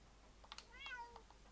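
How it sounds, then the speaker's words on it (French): A small cat in Minecraft gives a soft, short meow amid faint clicking of keys, quiet and close. "Oh, un petit chat. Bonjour, petit chat."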